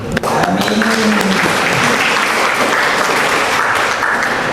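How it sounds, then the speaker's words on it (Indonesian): Audience applause at a seminar on the advocate professional exam, loud and sustained for several seconds, a dense wash of many hands clapping with a brief voice at the start. "Tepuk tangan dulu lah."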